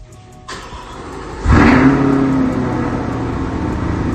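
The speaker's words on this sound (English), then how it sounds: "here's what she sounds like when she's starting up in the garage here." A car engine cranks and catches inside a garage, a loud burst at startup settling into a steady, rumbling idle that fills the enclosed space, with no talking.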